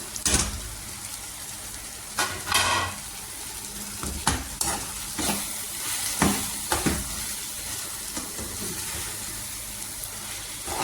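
Ground coriander, chilli and fenugreek powders dropped into a hot pan with vegetables, giving a steady close sizzle broken by several sharp scraping stirs and taps of a spoon against the pan, with no talking.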